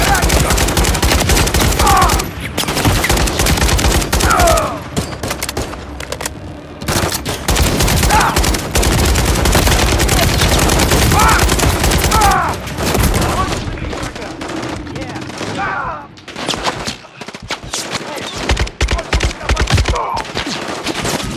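Sustained automatic gunfire from the military shooter Call of Duty: Modern Warfare 3 in a frozen tundra battle, dense and loud bursts of rifle fire and heavy rounds hammering almost without pause, with shouted voices buried in the barrage.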